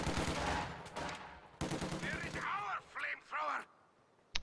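A guard rifle squad firing in a strategy video game, with LMG-upgraded bursts of rapid gunfire rattling in dense volleys, then sparser shots and swooping whistles, under faint commentary.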